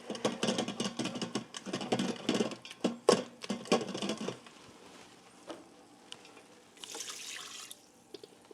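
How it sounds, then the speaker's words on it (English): Wine poured into an Instant Pot for a pot roast sauce, a splashing, gurgling stream close by for several seconds, then fading to quieter trickles and light clinks with no talk. "then we'll put the rest of the wine in"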